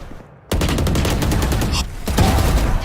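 Rapid bursts of gunfire from the tactical shooter VALORANT crack out after a short quiet opening, a loud dense volley of shots continuing with a brief dip before more firing.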